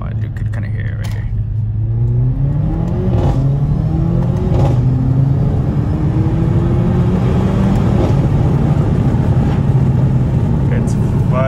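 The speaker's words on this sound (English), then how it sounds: "the car literally sounds supercharged. It whines." A 2016 Mercedes CLA 45 AMG engine revs and whines as it accelerates, the pitch climbing steadily over a loud rumble, with talking mixed in.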